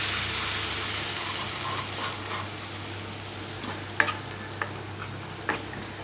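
Spices and cooked dal sautéing in oil, a steady close sizzle with a low hum underneath and a few sharp spoon clinks against the pan in the second half.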